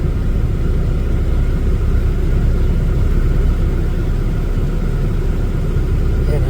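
A car engine with a P28 ECU fitted with upgraded QM chips idles steadily, a constant low rumble that dips slightly in speed as the air conditioning switches on.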